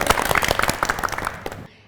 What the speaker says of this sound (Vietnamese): Một tràng pháo tay được không ạ?